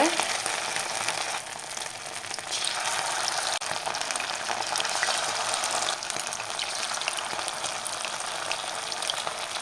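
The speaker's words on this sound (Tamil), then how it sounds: "எண்ணெயில் போட்டு சிக்கனை பொறிச்சு எடுத்துக்கலாம்" Chicken pieces for kebab deep-fry in hot oil, a loud, dense, continuous sizzle and crackle that stays steady throughout, close up with no talking.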